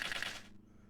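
EQ'd Bullet Seed effect from a Generation 3 Pokémon game with the high end reduced, a short rapid rattle of popping clicks lasting about half a second, then cutting off into near silence.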